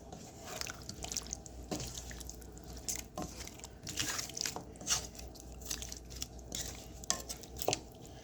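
Chicken curry stirred in a pot, with soft wet sizzling and intermittent spoon scrapes and clinks against the metal, close but fairly quiet, with no voices.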